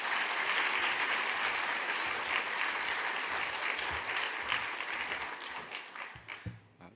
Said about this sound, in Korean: 감사합니다 크게 박수로 환영하겠습니다